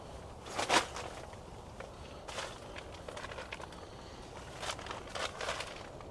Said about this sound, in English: He was abruptly awakened by the sound of footsteps outside his tent